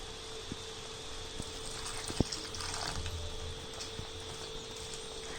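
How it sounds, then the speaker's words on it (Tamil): Water is poured into a pan of Chettinad chicken gravy on the stove, a steady close trickle with light splashing, plus a soft electrical hum and one sharp click. "இப்போ உங்களுக்கு எவ்வளோ கிரேவி வேணுமோ அதுக்கு ஏற்ற மாதிரி தண்ணி ஆட் பண்ணிக்கோங்க."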